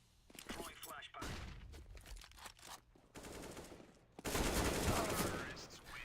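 Bursts of rapid gunfire from the video game CS:GO crackle and rattle in uneven volleys, loudest near the end, with talk mixed in.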